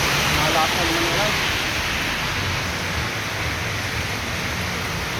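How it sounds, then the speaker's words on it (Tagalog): Heavy rain pours steadily during Typhoon Uwan, a dense, loud, continuous wash of water that stays even and unbroken from start to finish with no voices on top. "Malakas na naman ulan."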